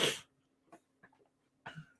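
A single sharp sneeze at the start, followed by quiet sniffs and breaths, with a faint low hum underneath.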